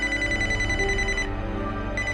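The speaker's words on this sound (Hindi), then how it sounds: "विजय के फ़ोन की घंटी बजने लगती है" A phone ringtone plays loudly and steadily, a repeating electronic ring that briefly drops out before resuming.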